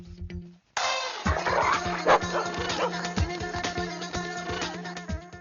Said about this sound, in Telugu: ఇది మన కుక్కలా ఉంది.